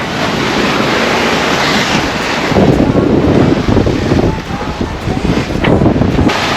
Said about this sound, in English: it's driving us through the waves, so it's good